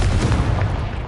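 Confringo blasting spell fired in Hogwarts Legacy, a steady loud rumbling blast of fiery energy that fills the whole moment with a dense low roar.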